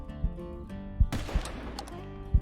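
A single hunting rifle shot in Hunting Simulator 2, fired at a bighorn sheep, cracks sharply and rolls off over an outdoor ambience with low thumps around it.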